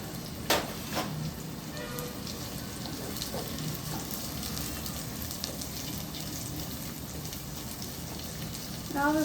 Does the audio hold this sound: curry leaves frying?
yes